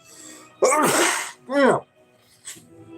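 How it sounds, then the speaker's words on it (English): A single sharp sneeze bursts out, followed by a shorter breathy vocal sound and a faint sniff, close up with no speech. "See, I'm about to sneeze right now."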